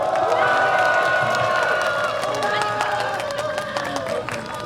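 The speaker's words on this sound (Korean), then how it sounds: "박수 한번 쳐주세요." A festival crowd at a trot concert on an outdoor stage claps and cheers loudly, dense applause with whoops that gradually thins and fades toward the end.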